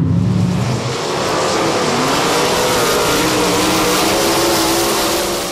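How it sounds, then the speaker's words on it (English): A sprint car engine at Golden Triangle Raceway Park, a loud sustained roar with steady droning tones that hold level for several seconds, close and continuous with no voices. "Sprint cars are high-powered cars designed primarily for the purpose of running on short, oval, or circular dirt or paved tracks."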